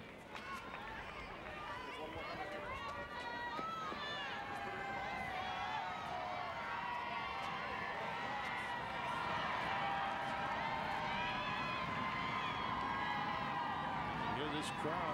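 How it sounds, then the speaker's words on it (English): Tennis crowd at a 2007 ATP match in Houston cheering on James Blake during the second set, a sustained loud roar with whoops and shouts that swells toward the end. "You hear this crowd getting behind James Blake."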